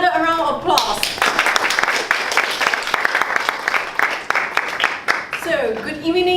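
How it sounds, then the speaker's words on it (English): Sustained audience applause fills a Toastmasters club meeting, dense steady clapping from a room of people for several seconds, framed by a speaker's voice at the start and end. "Let's give him another round of applause."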